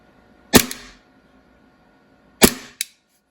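Two sharp bangs from a Laser Ammo recoil-enabled G19 Gen5 training pistol, roughly two seconds apart, each a loud crack with a short hissy tail of gas, the second followed quickly by a smaller click, with quiet between.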